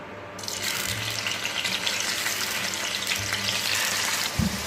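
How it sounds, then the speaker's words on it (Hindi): Paneer pieces shallow frying in hot oil in a pan, a loud continuous hiss and crackle of frying that starts abruptly and holds steady, close up. "अब यहाँ पे हम पनीर के पीसेस को शैलो फ्राई करेंगे।"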